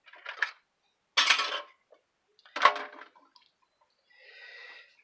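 Ground meat and cheese are stirred for a beef, bacon and tater casserole in a bowl that is too small. A few separate scraping, clinking strokes come with short pauses between them, close and fairly quiet.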